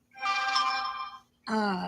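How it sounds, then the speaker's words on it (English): A telephone rings with a bright, tonal electronic trill, one long ring followed by the start of another after a short gap, clear and steady in a quiet room. "Evil phone, be quiet."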